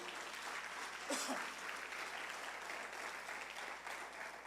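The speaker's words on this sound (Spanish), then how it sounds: "¿Le puedes dar un fuerte aplauso al Señor Jesús?" A church congregation applauds in a steady, dense wash of clapping that holds at an even level from start to finish.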